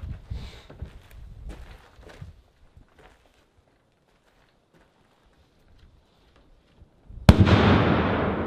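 At a Navy EOD demolition training range, a demolition charge goes off after several quiet seconds of faint outdoor rustling. It is a sudden, loud, sharp blast that rolls into a long, broad rumbling decay.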